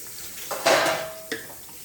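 A kitchen sink gives a short, close burst of clattering and splashing while dishes are set in it during peanut butter oatmeal cookie baking, with a brief knock at the end.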